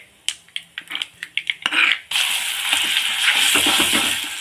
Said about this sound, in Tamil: இப்போ நல்லா இதை எண்ணெயில் வதக்கணுங்க அதுதான் வேலை